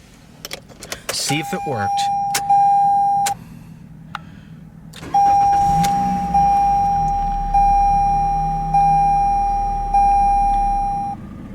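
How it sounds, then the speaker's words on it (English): Keys jingle and a chime beeps before a 2020 Toyota Corolla LE starts up and settles into a low, steady idle, with a repeating dashboard chime over it and a brief spoken remark near the start. "Now let's go ahead and fire the car up."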